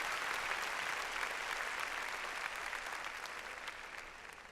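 A church congregation claps hands in praise during a Spanish-language worship service, a dense, even wash of applause that gradually tapers off.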